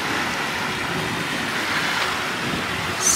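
Surf washing steadily onto a beach at night at a campground, a continuous broad hiss of waves mixed with wind buffeting the microphone, no voices.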